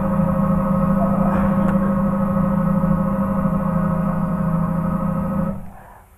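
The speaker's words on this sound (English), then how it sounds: "that sound is helicopter sound" Helicopter engine and rotor noise over footage of river ice: a steady, fairly loud droning hum that holds evenly, then fades and cuts out near the end.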